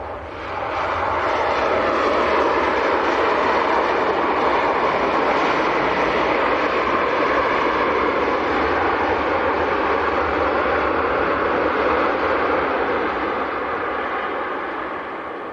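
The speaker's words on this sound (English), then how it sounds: "And that is a 6-year-old 737-800." Ryanair Boeing 737-800 from Dublin roaring past at Leeds Bradford Airport, a sustained broad jet rumble that swells and then slowly fades, with no talk over it.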